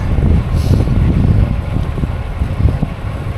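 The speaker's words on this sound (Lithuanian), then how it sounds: "Pučia vėjas." Wind gusting during a long bicycle ride on a coastal cycle path, heavy low buffeting rumble across the microphone, loud and continuous.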